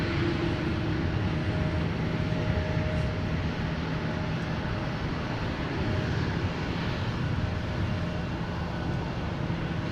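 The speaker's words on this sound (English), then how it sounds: "The Pratt & Whitney gear turbofan engine spooling up." A Pratt & Whitney geared turbofan engine on an airliner at an airport gives a steady broadband roar with a faint tonal whine, holding loud and even throughout.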